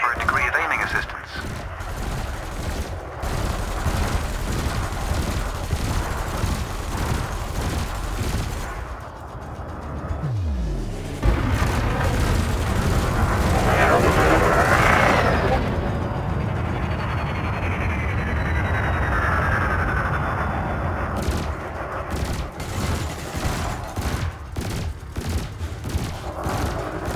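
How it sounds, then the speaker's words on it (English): Multi-cannon weapons on a spaceship in Elite Dangerous Odyssey fire in dense rapid bursts of mechanical gunfire, continuous and loud for long stretches, with a synthetic voice and some game sounds mixed in. "You may have noticed that multi-cannons are effective against unshielded targets."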